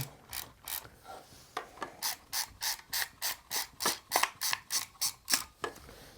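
Film being wound in a Mamiya Six camera: a close, dry ratcheting click repeated in a steady rhythmic series of about twenty turns, quiet and alone.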